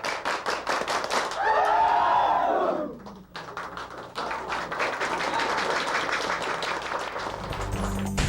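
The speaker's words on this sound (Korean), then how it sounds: "식사를 마친 생도들은 한국 교관들에게 배운 337 박수로 고마움을 표시했다" Cadets break into the 3-3-7 rhythmic clapping pattern, a crowd of sharp, synchronized claps in grouped bursts, loud and close, following a stretch of shouting voices.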